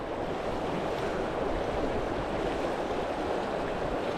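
Steady wind rushing over a trout stream in central Pennsylvania, a dense continuous roar with buffeting mic noise and water wash blended together, loud and unbroken throughout.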